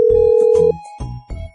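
A telephone ringing on a call, a loud, close electronic tone that holds steady at first and then breaks into short, repeated bursts.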